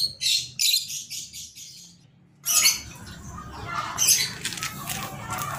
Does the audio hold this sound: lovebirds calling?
yes